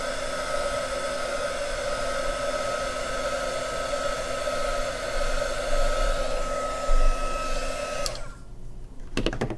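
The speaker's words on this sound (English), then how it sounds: "I will just use a hair dryer to dry this part" A hair dryer blows to dry part of a classical Chinese landscape painting. A steady, close whirring drone runs throughout, then cuts off abruptly near the end, leaving near silence and a few small clicks.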